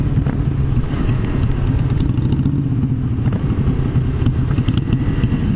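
A Yamaha YZF-R3 motorcycle riding along a road on Route 12 in a group ride, with a steady low engine drone and constant wind rush, loud and close with light clatter on top.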